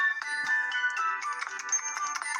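A mobile phone ringtone plays loudly and close by, a bright repeating electronic melody of quick chiming notes that runs steadily for the whole stretch with no other sound.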